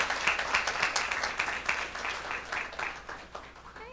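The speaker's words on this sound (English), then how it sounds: "Let's give her a round of applause." An audience at a school board meeting applauds with moderate, steady clapping that lasts a few seconds and gently tapers off.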